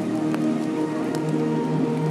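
Rain falls on a cold, wet day in the Berlin Botanical Garden during filming of an art installation, a close, continuous patter of drops with a faint low hum and scattered ticks, no talking.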